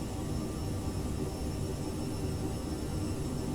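Aerosoft CRJ 700 regional jet climbing after takeoff in Microsoft Flight Simulator 2020, on departure from Salt Lake City; a loud, steady jet-engine roar with a constant whine, with no gaps or talk.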